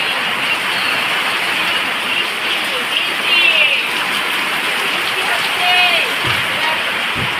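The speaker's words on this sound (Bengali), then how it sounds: "জোরদার বৃষ্টি" Heavy rain falling outside a home and shop, a loud, dense, continuous hiss that holds steady throughout, with faint passing sounds in the background.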